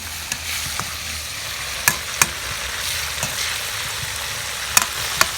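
Grasshoppers fry in hot oil in a pan, a steady close sizzle running throughout, broken by scattered sharp pops and the clack of stirring against the pan.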